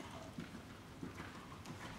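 Faint hooves clip-clop at an unhurried walk, a few soft thuds spaced out against a quiet outdoor background.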